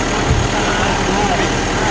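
Kubota tractor diesel engine idling, a loud steady low rumble close by, continuous throughout.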